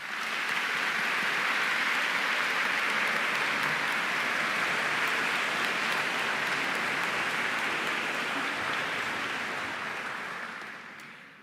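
A large audience claps at a university fall convocation, a dense, sustained wash of applause that holds steady for about ten seconds before tapering off at the end.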